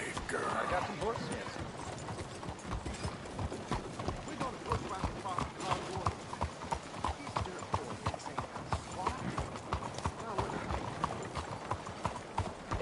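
Steady clip-clop of horse hooves trotting close by in the video game Red Dead Redemption 2, with a busy game background and voices talking over it throughout.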